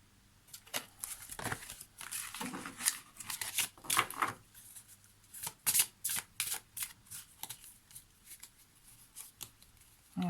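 Oracle cards are handled and put back in order: close, quiet flicks, slides and riffles come in irregular clusters with brief pauses between them.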